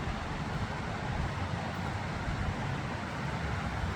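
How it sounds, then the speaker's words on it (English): A broadband rush of a fast mountain creek at Glacier, Snyder Creek, fills the scene as a steady, close, unbroken roar with no voices. "you can hear the rushing water there of Snyder Creek"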